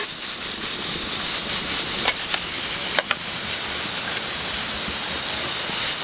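Leftover broth reducing in a pan for lomo saltado, a loud continuous steamy hiss with a couple of brief clicks partway through.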